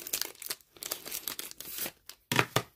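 Crinkling and tearing bursts of a small plastic bag around a graded trading card come in quick irregular clusters, close and crisp, with brief silent gaps between.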